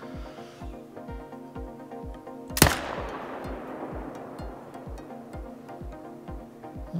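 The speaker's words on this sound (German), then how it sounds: "Das war ein guter Schuss." A single sharp hunting-rifle gunshot in theHunter: Call of the Wild cracks midway, loud and close, ringing out with a decaying tail over a quiet rhythmic game soundtrack.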